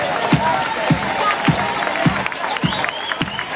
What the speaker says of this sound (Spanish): Se ve fuerte el aplauso